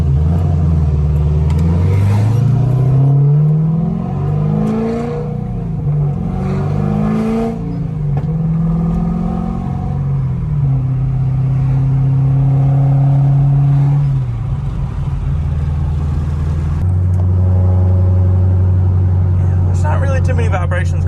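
A C6 Corvette pulls hard on a back road, its engine note climbing through repeated revving sweeps and gear changes, loud and rumbling throughout, with someone talking over it.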